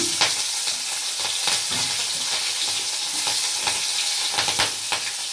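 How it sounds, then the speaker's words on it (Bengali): Chopped green chillies sizzle in hot frying oil while a dal-and-pointed-gourd curry is being cooked, a continuous crackling hiss broken by the sharper scrapes of stirring. "এবার ওই ভাজা তেলে আমি লঙ্কার কুচিটা দিলাম।"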